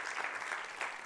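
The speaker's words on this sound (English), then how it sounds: "Give Martin again a nice applause." Conference audience applauds in a brief, steady burst of clapping, moderately loud and filling the room.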